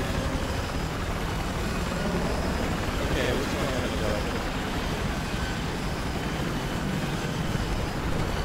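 A helicopter drones loudly and continuously in Battlefield 4, a dense rotor and engine roar filling the whole stretch amid battlefield noise.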